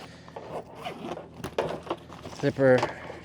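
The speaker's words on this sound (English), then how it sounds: "crawl right in there, zip it up" A zipper on a sea kayak's cover is pulled in short scraping bursts, near and fairly quiet, ending in one longer zip, with a person talking over it.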